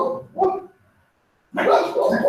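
A pet dog barks indoors in a few short bursts, its yips separated by a brief silence, sounding close and fairly loud.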